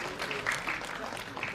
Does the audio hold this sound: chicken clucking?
no